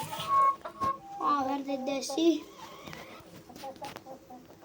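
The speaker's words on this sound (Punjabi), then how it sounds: "ਬਾਕੀ ਇਧਰ ਵੇਖ ਲਓ ਕੁੱਕੜ ਆਪਣੇ" Chickens cluck and squawk nearby, short bursts of fowl calls mixed with a man's speech and farmyard background noise.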